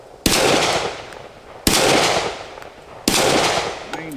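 Three loud, sharp shots from a Glock 20 SF 10mm pistol fired at a steel plate outdoors, spaced about 1.4 seconds apart, each followed by a decaying echo.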